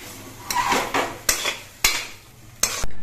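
A spoon scrapes and clinks against a pan while taro leaves are stirred with ground black cumin paste, giving several sharp knocks spaced about half a second apart over a soft rustling base.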